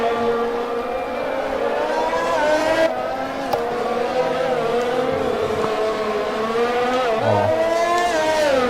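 A race car in a racing video game accelerates through Monte-Carlo with a high, whining engine that holds steady and rises in pitch through gear changes, loud and continuous with little else audible.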